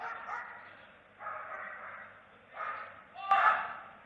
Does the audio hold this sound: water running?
no